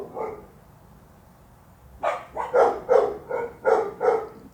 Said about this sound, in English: Are these dogs really bothersome?